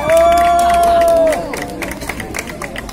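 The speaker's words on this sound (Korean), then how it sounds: "박수." A loud crowd at a street busking performance in Hongdae, Seoul, cheers and claps, opening with a sustained high whistle-like shout before settling into steady roaring applause.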